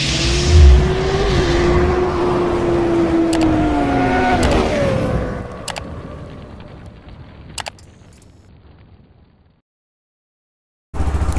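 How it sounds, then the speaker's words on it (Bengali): A motorbike engine warms up and revs up close, holding a steady idle with rising and falling revs before fading down and cutting off, then a short burst of engine noise returns at the end. "এখানে আমার বাইক অলরেডি ইঞ্জিন হিট হয়ে গেছে"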